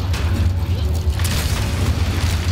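An incendiary grenade goes off in Resident Evil 5, heard as a loud, sustained low boom and roar that fills the whole moment with dense rumbling game noise.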